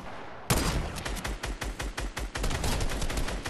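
Dense, loud video game battle gunfire, with rapid overlapping shots and automatic bursts crackling nonstop for several seconds after an abrupt start.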